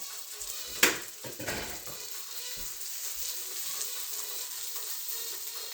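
Bacon fat sizzling in a frying pan, a steady hiss of frying throughout, with a sharp utensil clink near the start and a few soft stirring knocks.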